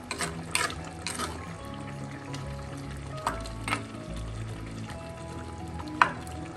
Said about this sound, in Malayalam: ഇതൊന്ന് ഇളക്കി കൊടുക്കാം